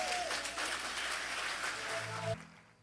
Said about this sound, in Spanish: Los que saben que Él hace milagros le dan un fuerte aplauso.